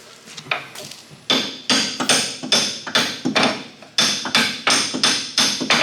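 A small hammer strikes a car axle again and again in a steady, fairly quick rhythm during an axle install on a Mustang GT convertible. The blows are close and sharp, after a few lighter taps at the start.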